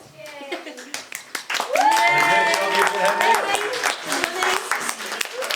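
Wedding guests applaud during the speeches at a reception at Slaley Hall, scattered claps swelling into steady applause for several seconds, with a voice speaking over it and cheering.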